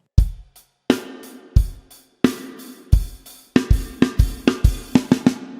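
Rock drum beat on a kit, steady kick, snare and cymbal hits that quicken into a busy fill of rapid strokes near the end, loud and close with no voices.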